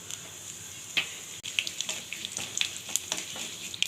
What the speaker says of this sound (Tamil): எண்ணெய் காஞ்சிடுச்சு. ஸ்டவ்வை லோ ஃப்ளேமில் வச்சுக்கோங்க. சீரகம், கடுகு, உளுத்தம்பருப்பு போட்டுக்கலாம்.